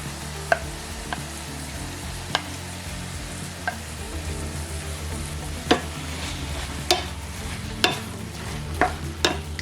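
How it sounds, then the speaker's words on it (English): Vegan chili heating in a hot pan, a continuous close sizzle broken by scattered sharp scrapes and taps of a utensil stirring it. "Let's add in some of that chili and just really heat it up."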